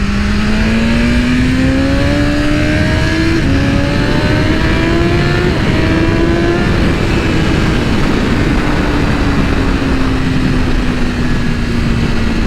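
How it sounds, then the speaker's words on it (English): A red 2023 BMW S1000RR sport motorcycle accelerating on the road after passing a bus, engine whine rising in pitch through the gears over loud, constant wind roar, with no talk. "as soon as I pass this bus, I'm going to accelerate"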